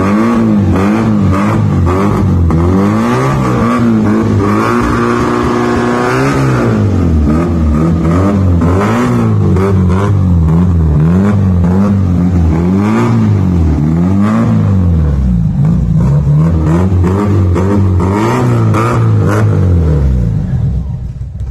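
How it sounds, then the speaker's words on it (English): Modified exhaust on a Premier Padmini car revs repeatedly, loud and close, the engine note rising and falling in a series of throttle blips over a rumbling idle for about twenty seconds. "So now let's hear the exhaust."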